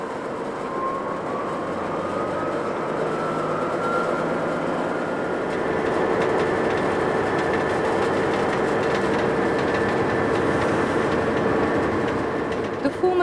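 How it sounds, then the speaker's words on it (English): Diesel locomotive running on a railway in Kosovo, a steady, loud mechanical drone with a rising engine whine and rail rumble that continues throughout, fairly close. "The locomotive's already uncoupled from the train."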